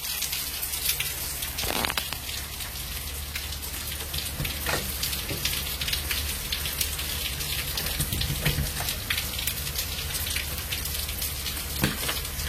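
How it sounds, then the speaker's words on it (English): Steady rain falls on a rainy day in Myrtle Beach, a loud, continuous hiss with scattered drops pattering close by throughout. "As you can see, it's a rather rainy day here in Myrtle Beach."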